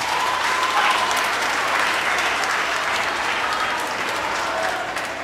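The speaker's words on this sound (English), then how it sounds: "Give yourself a wonderful round of applause." A theatre audience applauds a stage play, a dense, steady wash of many hands clapping at once that holds loud throughout and eases only slightly at the end.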